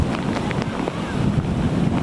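Strong gusts of Typhoon Paulo roar steadily across the microphone, a loud, continuous rumble with buffeting surges and no pause throughout.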